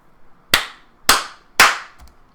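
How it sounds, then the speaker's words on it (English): Three sharp hand claps in a row, evenly spaced about half a second apart, each a crisp close slap that fades quickly, with nothing else in between. "let's do a clap first, so then I can sync up with myself"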